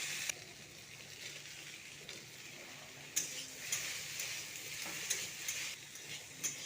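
Capsicum and potatoes frying in a pan at home, a steady close sizzle with occasional sharper crackles and small bumps from stirring, no voices.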